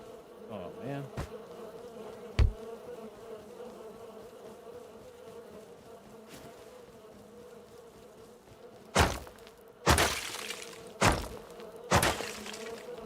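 Bees buzz steadily in the survival game Rust, a continuous insect drone throughout, broken near the end by several loud, close thumps and whacks with no talk.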